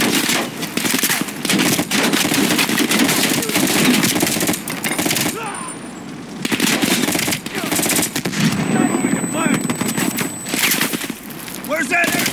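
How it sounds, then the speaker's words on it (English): Bursts of M60 machine gun fire in a Call of Duty Black Ops Cold War campaign mission, loud sustained rattling with short pauses, mixed with other gunfire and battle noise, and voices talking over it. "Oh iya, M60."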